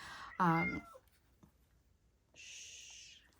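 A single short meow sounds close by, then after a quiet gap a sustained high hissing or whirring tone runs for about a second.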